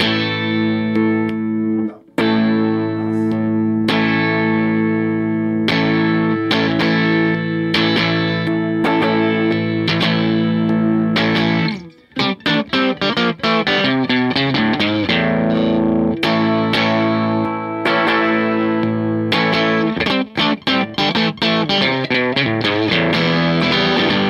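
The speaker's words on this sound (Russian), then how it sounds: "Хамбакер с пьезой. Ну и чистая пьеза." A Peavey Generation EXP electric guitar plays through its humbucker blended with the piezo pickup, sustained chords and picked notes ringing loud and continuous with brief gaps, no talking over it.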